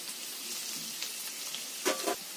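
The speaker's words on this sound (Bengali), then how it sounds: "আলুগুলোকে আমি খুব ভালো করে ভাজা ভাজা করে নেব" Potatoes fry in a pan, a soft steady sizzle close by with a couple of brief louder crackles near the end, no talking.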